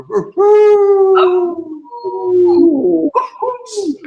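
A human voice imitates a bloodhound's howl with long, wavering, mournful wails that rise and slide down, loud and close, broken by short breaks between phrases.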